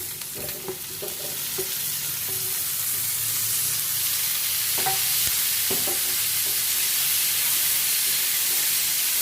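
Tomatoes sauté with onions in a pan for a peas paneer gravy, a loud continuous hiss of frying under scattered stirring scrapes and clicks, no speech.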